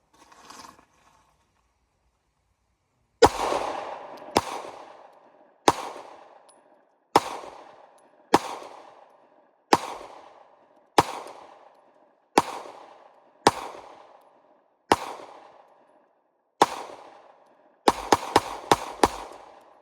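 A PSA Dagger Glock-clone pistol fires about a dozen loud, sharp shots at steady intervals, each with a short echoing tail, ending in a rapid burst of closely spaced shots.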